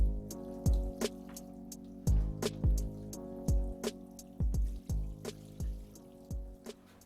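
Water is poured over plants in quiet, irregular splashes and drips, repeated several times in short bursts, with no voices.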